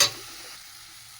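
Grated carrots sizzle in ghee over a lowered gas flame while cooking gajar ka halwa; a brief hiss of frying fades to a soft, steady crackle, with no voices.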